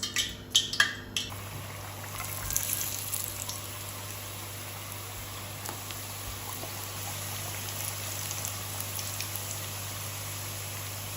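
Samosas deep-fry in hot ghee with a steady, soft sizzle and bubbling throughout, opened by a few clinks of a utensil against the pan.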